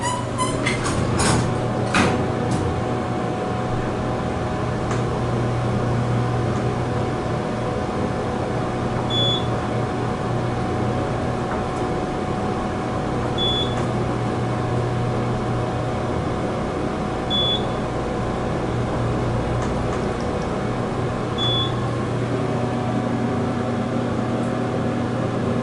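Mowrey hydraulic elevator at a Courtyard by Marriott in Winter Haven, Florida, travelling between floors: a steady low motor and pump hum with a mechanical rumble, plus a few soft chimes or clicks at regular intervals, with no talking.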